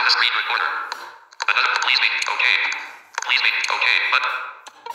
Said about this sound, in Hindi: देखिए ये इको की आवाज है।